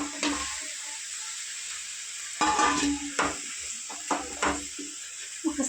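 Cucumber pieces stirred in a pan for an old-style fish curry, a soft steady sizzle broken by several sharp scraping stirs, with quiet voice in the background.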